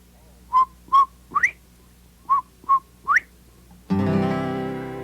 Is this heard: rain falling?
no